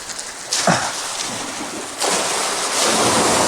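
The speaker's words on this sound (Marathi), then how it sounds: "आता हा पंप या ठिकाणावर आपण ऑन केला आहे तीन इंची पाईप जो आहे तो कंपनीनं इथे दिलेला आहे साडेसात एच पी पंप आहे" A 7.5 HP pump discharges water through a three-inch pipe, a loud broadband rushing gush that swells in bursts and stays steady and close throughout, with no voices.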